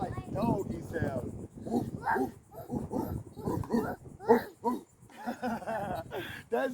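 A man imitates a dog barking for a child during a session of animal-sound play. His voice gives a quick series of close, loud, bark-like yelps and woofs with short gaps between them.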